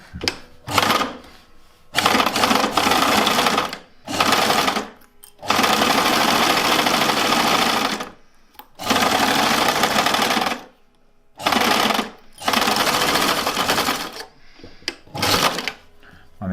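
A sewing machine runs at half speed in repeated bursts of rapid stitching, each lasting a second or a few seconds, separated by short pauses. It is loud and close, with no talking.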